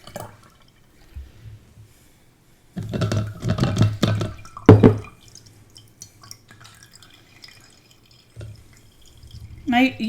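Milk kefir dripping through a wire mesh strainer into a jar, scattered close drips and liquid trickles with a louder splashy burst in the middle, otherwise quiet.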